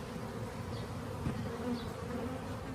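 A dense, continuous buzzing of many bees close by, droning steadily without a break.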